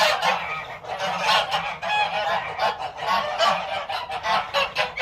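A flock of geese on a goose farm honks repeatedly and loudly, overlapping calls in a busy, continuous chorus close by.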